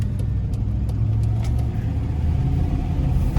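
A truck cruises along with a steady, loud low engine and road rumble, with faint ticking clicks above it and no one speaking.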